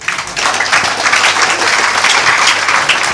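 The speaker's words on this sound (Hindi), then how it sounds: "अब इनके लिए तालियां बजाइए आप।" Dense, loud audience applause at a felicitation ceremony in Bhiwandi, a continuous wash of many hands clapping from start to finish with no talk over it.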